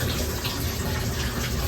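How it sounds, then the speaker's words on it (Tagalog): Water gushes steadily from a Panasonic automatic washing machine with a leak, a continuous loud rushing splash with no breaks or voices. "Tumatagas yung tubig, ano."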